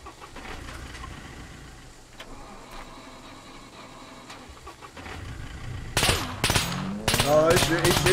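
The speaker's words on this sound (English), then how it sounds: "Oh, he's shooting me, alright." Gunfire from an attacker in the survival game Scum, a loud burst of rapid shots erupting in the final seconds after a stretch of quieter in-game ambience, with a car engine also present.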